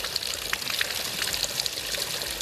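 Cold medicinal mineral water pours in a steady, close stream, a continuous splashing trickle with small bright droplet sounds and no talking.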